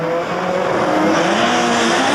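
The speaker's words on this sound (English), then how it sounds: "The turbocharged cars bogging off the starting line, straining to pack more air into the engine" Turbocharged drag race cars launch off the starting line at the 2002 IDRC Rocky Mountain Nationals, a loud, continuous engine roar straining and bogging with a hint of tire noise throughout.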